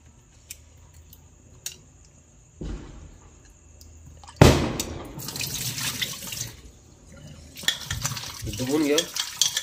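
Dried salted surmai (kingfish) pieces washed in water, with splashing, running tap and rubbing sounds growing louder after a quiet start, continuous handling in a basin near the microphone.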